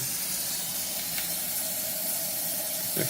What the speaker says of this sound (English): So I'm just putting some room temperature water in here.